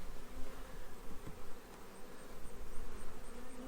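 Honeybees buzz steadily and close by while a hive is opened for a mid-July inspection, a dense continuous hum that swells and eases slightly, with no voices.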